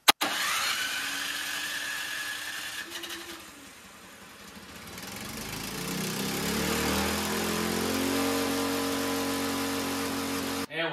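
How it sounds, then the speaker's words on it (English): A Yard Man 21-inch snow thrower engine cranks, catches and runs, its small-engine roar dipping briefly before settling into a loud, steady running drone close by. "We'll put the choke on, give it a few primes. We'll let it rip, see what happens."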